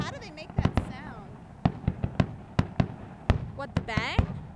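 Canada Day fireworks in Orillia: a string of sharp, loud bangs spaced irregularly, with rising whistles from whistling rockets, while nearby spectators chat between the blasts.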